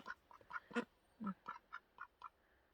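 Ducks quack in short, uneven bursts from a duck pen, several calls in quick succession, fairly faint and a little distant, with no voices.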